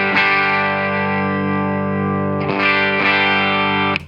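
Electric guitar run through a Source Audio Atlas compressor pedal at maximum compression on its studio setting, a thick sustained chord held steady at an even loud level, with two fresh strums near the end and no talking.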